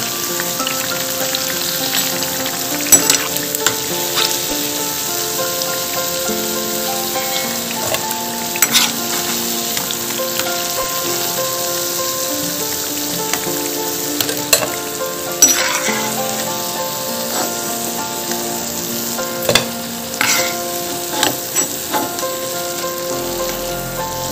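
Bread slices frying in oil for Hyderabad-style double ka meetha, giving a constant close crackling sizzle with occasional bubbling pops and light scrapes.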